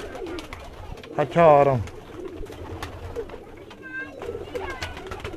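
Pigeons, a paired Teddy female and Ferozpuri, give a short, clear burst of cooing up close, then fainter coos later on. A voice is heard between the calls.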